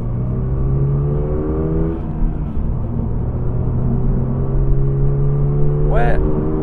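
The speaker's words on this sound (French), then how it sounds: "on entend bien le moteur rugir à partir de 4005" A Toyota GR86 sports car engine hums steadily as it pulls through the revs, roaring from about 4000 rpm, a low droning tone inside the cabin with someone talking over it; the car is still being run in.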